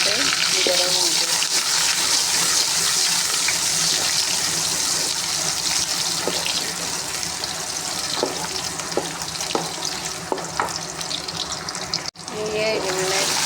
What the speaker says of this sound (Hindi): ये जो घी मैंने रख दिया था आधा कप, ये गर्म हो गया। प्याज डालूँगी